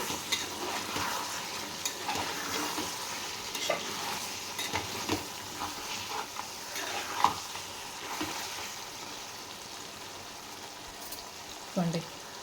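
Eggplant and mutton bone curry is stirred while it fries in a pan, giving a steady soft sizzle with scraping strokes and occasional clacks from the utensil, close and moderately quiet.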